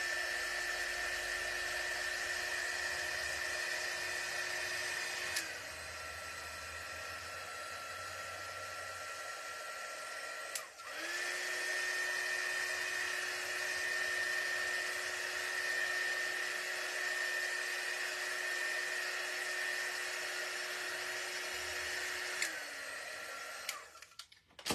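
A hair dryer blows over painted chipboard for a craft paddle, giving a steady, close whirring drone that briefly cuts off and restarts twice, with no talking over it.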